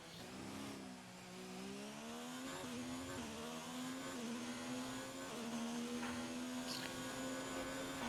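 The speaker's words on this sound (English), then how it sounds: "we are flying in this Alfa Romeo car." An Alfa Romeo Formula 1 car races around Monaco in the F1 2019 video game, its high engine whine holding a steady tone then rising and dropping through gear changes, loud and continuous without talk.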